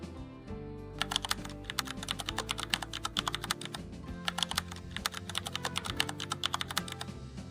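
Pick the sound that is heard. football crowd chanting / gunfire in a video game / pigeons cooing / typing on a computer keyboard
typing on a computer keyboard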